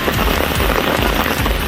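Heavy rain from cyclone Fengal pours down in a dense, loud, continuous hiss, with close drops spattering on surfaces throughout.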